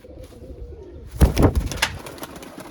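Breeder pigeons coo in a few close, throaty bursts after a second of quiet background hum, the calls clustered loudly together before tailing off.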